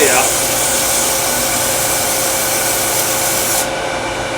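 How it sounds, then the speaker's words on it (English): Sandpaper rubbing steadily against a round skew chisel in a woodturning shop, a continuous close, loud abrasive hiss that holds for about three and a half seconds and then drops slightly in brightness near the end. "Maybe close enough I can finish it with my sandpaper"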